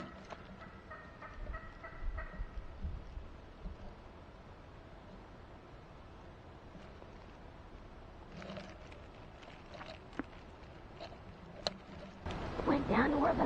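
A wild turkey gobbles in the distance during spring hunting in the woods, several faint calls standing just above a steady outdoor background, with a louder rustling burst near the end.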